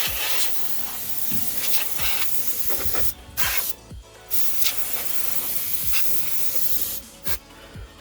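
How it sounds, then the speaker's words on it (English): A can of compressed air sprays dust out of a desktop PC case before an M.2 NVMe SSD install, loud hissing bursts in several repeated blasts with short pauses between them. "give it a good spray before you start working in it"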